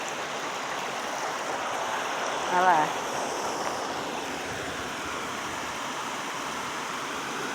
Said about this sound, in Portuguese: Imaginou tomar banho nessa cachoeira?